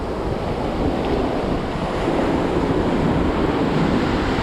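Atlantic Ocean surf at Daytona Beach, Florida, a loud continuous roar of breaking waves mixed with heavy wind buffeting the microphone, with no voices.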